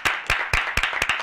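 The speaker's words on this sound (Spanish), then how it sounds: "Un aplauso." A television studio audience applauds, with dense, close clapping that comes in a few surging bursts over a little more than a second.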